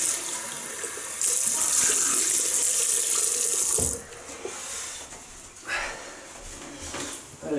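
A bathroom tap runs hard while a Wilkinson Sword safety razor is rinsed during a wet shave, with a loud steady gush for a few seconds that then drops to softer intermittent splashing with no talking.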